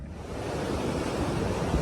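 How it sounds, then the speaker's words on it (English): Sea waves surge and smash against a seafront wall at Paignton in rough weather, a continuous loud roar of churning surf mixed with gusty wind buffeting the microphone. "the waves are starting to smash up against the sea wall in front of us"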